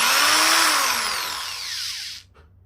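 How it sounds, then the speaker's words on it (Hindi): A keyless chuck power drill whirs at high speed while boring a hole, its pitch sliding downward as the motor winds down before cutting off abruptly near the end. "अब मैं एक छेद करके और आपको दिखा देता हूँ।"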